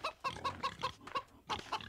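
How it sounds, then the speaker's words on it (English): Chickens cluck in a Wild West Dynasty farmyard, a run of short, close, repeated clucks and squawks in quick rhythm that stops for a brief gap before a few more calls. "Because there's some chickens here."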